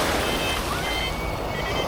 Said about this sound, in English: Come on, waiting for another wave.